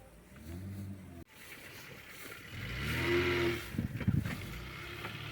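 A car engine runs continuously, with a brief drop in sound early on, then climbs in a strong revving swell before falling back to a choppy, pulsing idle nearby.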